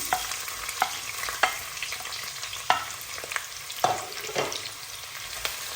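Sliced onion frying in hot oil for saag aloo, a soft continuous sizzle broken by several sharp stirring clacks of a utensil against the pan, close and without talk.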